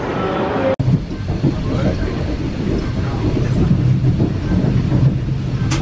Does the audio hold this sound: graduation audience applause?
no